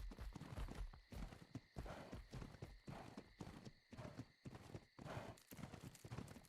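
Horse hooves clip-clopping in ARK Survival Ascended, a quiet, steady run of close hoofbeats in a regular walking rhythm, with faint horse snorts and no talking.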